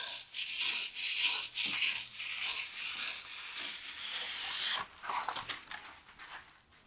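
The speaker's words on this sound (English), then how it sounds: "I feel like this paper is so loud." Stiff butcher paper rustles and crinkles up close in continuous scratchy bursts, with brief pauses between handling movements.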